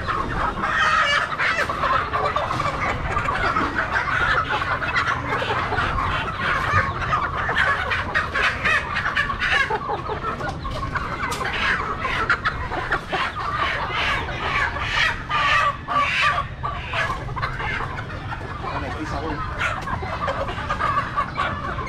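Chickens cluck steadily at a busy poultry stall in Sơn Kỳ market, Tân Phú district, with hens and roosters sounding close and continuous over constant market bustle for the full stretch.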